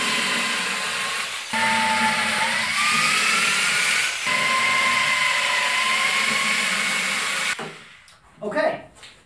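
A hand drill bores holes by hand into a wooden telescope mirror box, its motor whining steadily and close with brief pauses and pitch shifts between bursts, then falling away into quiet handling noise near the end.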